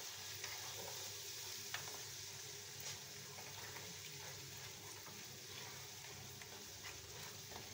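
Masala with garam masala, coriander powder and green chili fries in oil, a steady soft sizzle with occasional stirring scrapes throughout, no voices.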